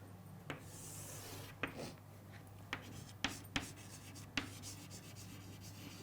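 A pen writing on paper in a quiet room: soft scratching strokes broken by sharp taps and clicks at uneven intervals, faint and close.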